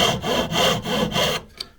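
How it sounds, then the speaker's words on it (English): A hand saw cuts out the scribe on a wooden glazing bar in four quick, rhythmic rasping strokes, close and loud, then stops with a small tap. "this is cutting out the scribe"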